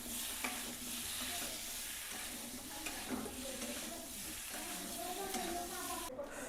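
Potato curry (aloo sabzi) stirred in a pan with a spoon, a steady scraping and sizzling texture that runs continuously at moderate level, with no one talking.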